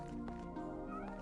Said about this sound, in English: Pretty sure that's a cat.